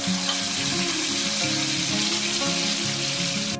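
Mustard and poppy seed paste drops into hot oil with black cumin in a wok and sizzles loudly and continuously, a close, dense frying hiss that stays steady to the end.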